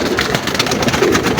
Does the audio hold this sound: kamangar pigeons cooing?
yes